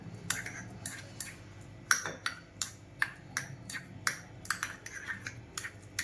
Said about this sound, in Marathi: आणि आता हे सगळं आपण मिक्स करून घेऊया